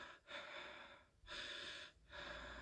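Heavy, loud breathing in repeated long drawn breaths with brief pauses between them, close up and without any talking.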